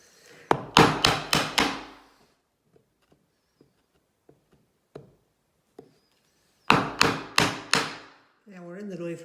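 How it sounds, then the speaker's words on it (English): A 3/4 inch chisel struck with a mallet cuts wood down to a knife line: two bursts of four or five sharp, close, ringing blows separated by a quiet stretch of light taps, with someone speaking briefly at the end. "So now we're going to change to a 3/4 inch chisel. And we're going to get closer to that knife line now."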